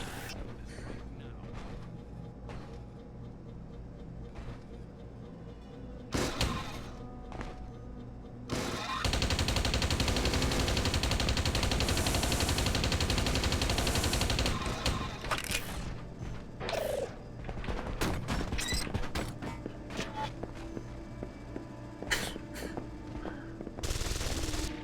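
Gunfire aimed at a ceiling turret in the PC game Deus Ex: Invisible War: loud, sustained automatic bursts with a dense stretch of continuous shooting, mixed with mechanical clanks, while a voice talks over it.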